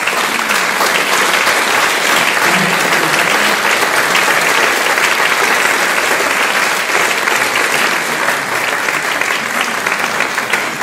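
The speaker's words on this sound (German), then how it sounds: "Ich möchte auch nochmal einen Applaus an die Runde bitten hier." Loud, sustained audience applause fills the room after a panel discussion on wind energy and responsibility, steady dense clapping without pause throughout.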